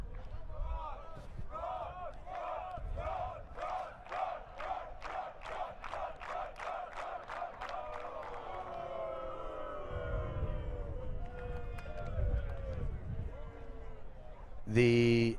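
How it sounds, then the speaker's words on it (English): A crowd in the grandstand at an ultimate frisbee open final chants a player's name in a steady rhythmic repeated call, mid-distance, with a commentator talking over it and cheering swelling at the end. "A Cron chant emerging from the grandstand."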